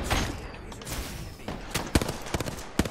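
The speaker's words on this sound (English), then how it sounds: "More grenades." Grenade blasts and gunfire in an online shooter game: several sharp, loud bursts land in the second half, scattered among rapid shots and thuds, with no talk during the bursts.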